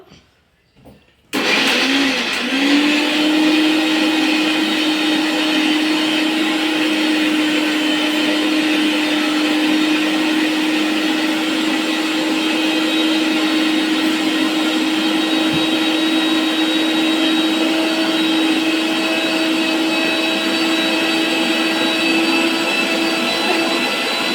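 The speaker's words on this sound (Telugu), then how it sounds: "ఇప్పుడైతే ఆనియన్ వేసి మిక్సీ పడుతూ ఉన్నాను" A kitchen mixer grinder grinding onion runs at a steady high-pitched whir, starting abruptly after a brief quiet moment and continuing loud and unbroken throughout.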